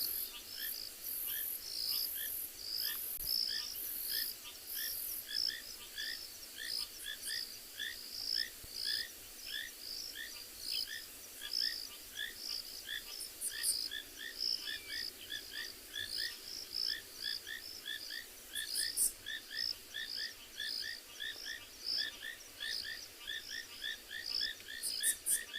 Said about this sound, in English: Beautiful sound of all the rain frogs.